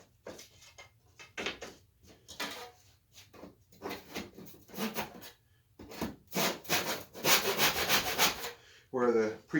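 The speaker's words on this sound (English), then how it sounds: "you can make a fairly nice cut like that" A hand saw cuts through wood braced on a bench hook, giving repeated rasping strokes in an uneven rhythm that grow louder and faster toward the end, close by and with no voice over them.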